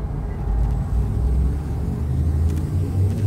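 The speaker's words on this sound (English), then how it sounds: "Drive charging." The frame shift drive of an Anaconda spaceship charges in Elite Dangerous, a steady, loud low rumble with a constant engine-like drone throughout and faint higher whines rising near the end.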